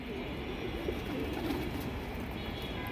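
A large flock of a few hundred pigeons coos steadily in a dense, continuous murmur with no clear breaks, close and moderately loud throughout.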